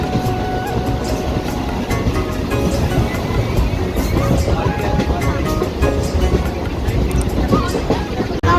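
Inside a moving train, a loud steady rumble and rattle of the carriage fills the space without letup, with a low roar under it.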